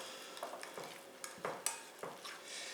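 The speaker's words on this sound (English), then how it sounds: "what you do is mix them together with a fork, really fluff them" Boiled potatoes being mixed and fluffed with a fork in a kitchen bowl, a close run of soft scraping, stirring clinks and light taps in an irregular rhythm, with no talking.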